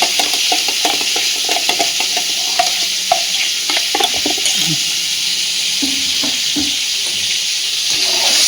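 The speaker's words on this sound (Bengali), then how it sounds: "মশলাটা ফাটাতে ফাটাতে একদম পুরো ক্রিমের মতন একটা টেক্সচার এসে যাবে" A spice paste for Bengali doi potol (pointed gourd in yogurt) fries in a pan. A bright, continuous sizzle plays under repeated scraping and clacking strokes as the paste is stirred vigorously. There is no talk.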